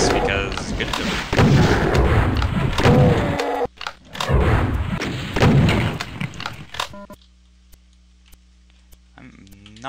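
Revenant missiles exploding in the video game Doom, a dense run of loud booms and thuds with clicky game effects through the first seven seconds, then a sudden drop to near silence with a faint hum.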